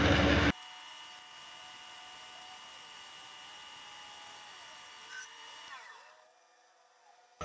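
A K&T 2D rotary head mill turns and cuts metal that is not breaking chips, a steady high machine whine with a droning hum that shifts pitch and winds down near the end, preceded by a brief loud burst.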